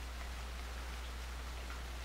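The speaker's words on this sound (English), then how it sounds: "There's also some rain going on inside this hangar" Rain falls inside a hangar in the video game DayZ as a faint, even hiss that carries on without a break under a low steady hum, with no voices.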